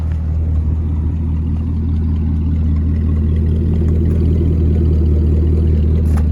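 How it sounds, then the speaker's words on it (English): A 2011 Cadillac CTS-V engine idles through dual exhaust with a deep, steady rumble, loud and close, holding an even low drone throughout without revving. "This one does have a dual exhaust, you can hear that."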